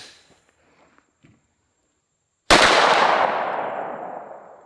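A single loud pistol gunshot fired at a target with a red dot sight, a sudden sharp crack after near silence that leaves a long fading echo.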